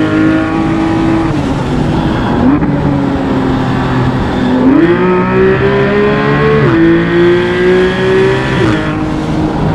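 A Porsche 911 GT3 of the 991.1 generation revs its engine loudly and continuously, the pitch climbing in stepped rises through several gear-like shifts, close up and with no talking over it.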